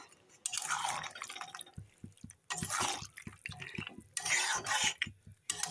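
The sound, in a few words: water poured over vegetables in pan, then covered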